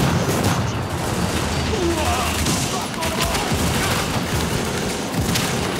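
Dense gunfire from The Division, Russian Consulate online mission, with overlapping bursts and booms filling the scene continuously, loud and close, as in a heavy firefight.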